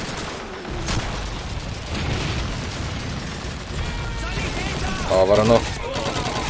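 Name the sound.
Thompson submachine gun fire in the video game Call of Duty 2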